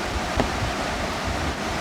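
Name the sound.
flowing water at Girimsa temple in Gyeongju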